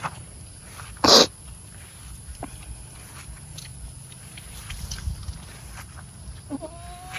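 A goat bleats briefly near the end, after a sharp burst of noise early on, over quiet outdoor background hum.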